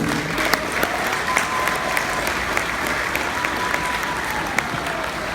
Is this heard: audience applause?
yes